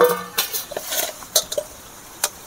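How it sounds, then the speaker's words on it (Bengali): A lid comes off a pot of resting flour dough with a few light metallic clinks and a short clatter, close and brief, followed by quieter taps. "এবারে আমি ঢাকাটা খুলে নেব"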